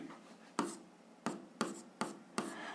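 Pen or marker writing out an algebra solution, five sharp taps and strokes spaced about half a second apart, with soft scratching between them, quiet and close.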